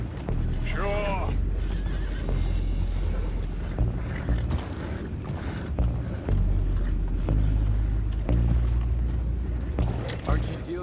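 Horses whinny loudly over a dense, rumbling Red Dead Redemption 2 game soundscape, with hoof clatter, mechanical clanks and voices talking throughout.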